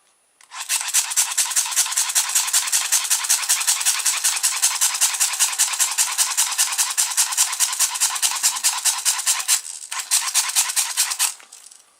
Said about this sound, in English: I've just stuck a feather on top of that motor, just so you can actually see what sort of power we're getting out of this dynamo